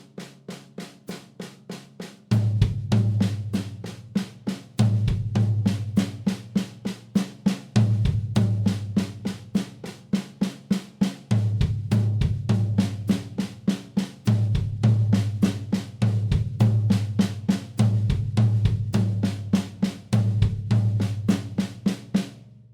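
A slow, steady single-stroke roll on a drum kit, with the right hand moving to the floor tom before regular low bass drum thumps, giving a rapid even stream of strokes punctuated by deeper accents, played alone and close.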